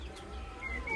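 A rooster in a home garden gives faint, soft clucking calls over a low background hum during a brief moment.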